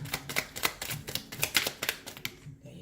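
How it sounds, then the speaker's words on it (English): Tarot cards are riffled and tapped in a rapid, irregular series of crisp clicks and flutters, close and fairly loud, ending in a short quiet pause. "You may be wondering why I shuffle like this."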